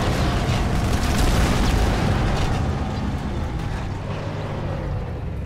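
A loud, sustained rumbling roar of an explosion in the video game Halo 2, dense and booming throughout, with no pauses or voices.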